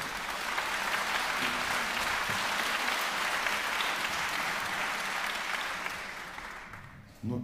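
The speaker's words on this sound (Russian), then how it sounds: "ваши аплодисменты" Dense, steady applause from a concert hall audience after a trumpet solo at a tribute concert, filling the space evenly before tapering off near the end.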